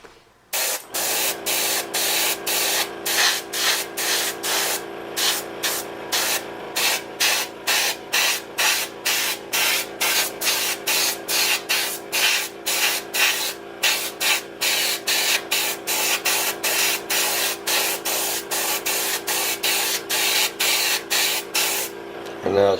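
A paint spray gun lays down a light coat of red in rapid, regular bursts of hissing spray separated by brief pauses, close and loud across a long stretch.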